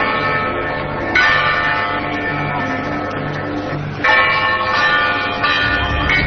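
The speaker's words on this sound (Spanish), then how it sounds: "Estas son las campanas, así suenan campanas, de un lugar llamado Fátima" Church bells ring at Fátima in a steady, loud, repeating peal with sustained resonant tones, and a new strike swells at several points over the ongoing ringing.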